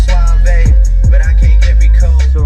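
Music plays loudly through the 12-speaker Canton sound system of a 2022 Skoda Kodiaq facelift, with a strong rhythmic bass beat and melodic layers filling the cabin, no talking.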